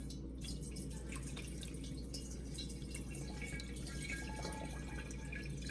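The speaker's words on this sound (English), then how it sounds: "I'm going to pour the rest of this in here where I can catch the SCOBY" Kombucha poured from a container into another vessel to catch the SCOBY, a steady close trickle and dripping of liquid running throughout with no talking.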